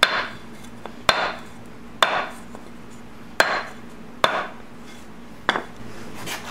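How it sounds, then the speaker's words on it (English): About six sharp, cracking hammer strikes, evenly paced roughly a second apart, seat a ball bearing into the final drive of a 2002 BMW K1200RS, close and ringing against a quiet background. "You can kind of hear a difference in the hammer blows. When it bottoms out, it makes more of a crack noise."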